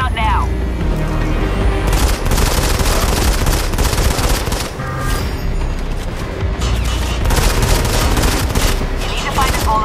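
Sniper rifle fire in the mobile game Sniper Fury on an aircraft carrier rig, with loud, heavy shots and booms layered over a dense, continuous battle ambience and game music, while a radio voice speaks.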